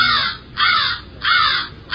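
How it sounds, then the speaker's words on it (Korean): A crow caws loudly and close, four harsh calls in a steady rhythm about every half-second, with nothing else heard between them. "까마귀를 프랑스어로 뭐라 하나요?"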